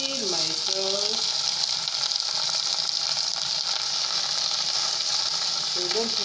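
Sauce poured into a pan of frying red onions makes a steady, loud sizzle that holds throughout, with faint stirring and a voice heard briefly at the start and end.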